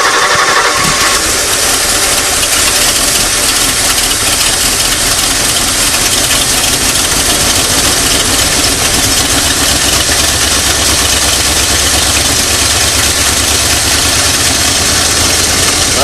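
A 1994 Ford F150 engine, with the choke held partly shut, cranks and catches, then settles into a loud, rough idle that runs close and continuous.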